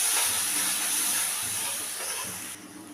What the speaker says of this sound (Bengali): মশলার পেস্টটা করেছিলাম, সেই পেস্টটাও আমি এটার মধ্যে ঢেলে দিলাম, দিয়ে আমি একটু মিশিয়ে নেব।